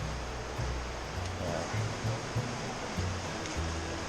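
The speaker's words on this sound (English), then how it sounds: "Going to have to actually cross Forney Creek." Forney Creek in the Great Smoky Mountains rushes steadily nearby, a dense even wash of flowing water with no voices over it.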